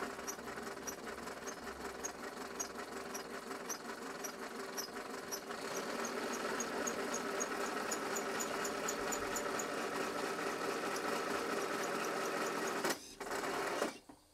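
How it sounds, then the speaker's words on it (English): A small model paddle steamer's steam engine running steadily with a fast, even mechanical chugging and ticking, growing a bit louder partway through, then briefly cutting out near the end. "eventually the engine runs quite smoothly"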